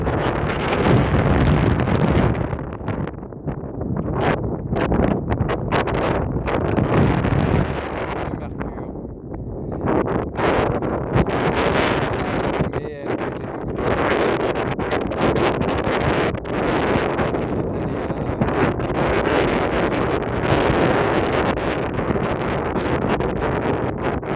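Steady wind buffeting the microphone, a loud broadband rumble with gusty surges throughout, no clear voices.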